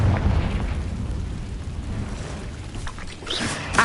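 A Confringo blasting spell goes off in Hogwarts Legacy, a dense, sustained rumbling burst that rolls on for several seconds with a sharper crackling flare near the end, fairly loud and heard alone.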